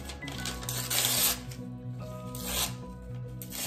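A word being torn by hand from a paper page for collage earrings, giving close, crackling rips and rustles in short bursts, with no speech.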